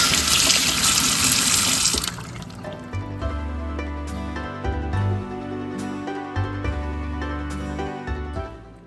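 Indian broad beans rinsed under a running tap: a loud faucet gush at first, then water splashing over the beans in a sink with soft clinks and handling knocks.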